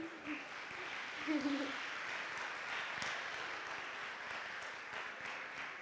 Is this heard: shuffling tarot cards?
no